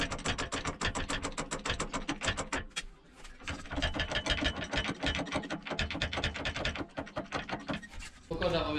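A jack braced against a garage ceiling works to straighten a bent farm trailer, giving a rapid, steady run of scraping, ratcheting clicks close by, with a brief pause partway through and people talking over it.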